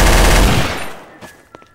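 Rapid automatic gunfire in Garry's Mod Trouble in Terrorist Town, a loud dense burst that cuts off, followed by a few fainter scattered shots.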